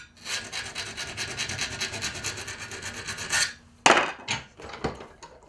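A file rasps rapidly against a steel fishing hook held in a vise, putting a point on it for a shark rig: a close, quick rhythmic scraping run, then a few separate strokes after a short break.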